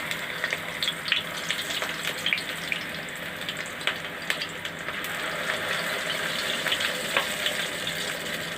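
Eggplant halves topped with a spoonful of seasoning mix fry in a pan, giving a steady close bubbling sizzle with scattered crackles and faint spits throughout, with no voices.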